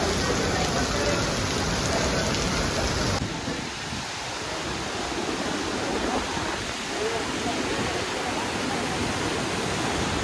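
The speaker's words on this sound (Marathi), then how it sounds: "आणि पाऊस तर खूप जोरात आहे. आणि मागे बघाल तर तुम्हाला धबधबा मोठा दिसेल." Savatsada waterfall on the Mumbai–Goa highway in Ratnagiri, pouring in heavy rain: a dense, continuous broadband roar of falling water and downpour, steady and close throughout with no clear voices.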